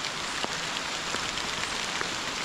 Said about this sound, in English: the branches, the leaves, still keep dripping raindrops on you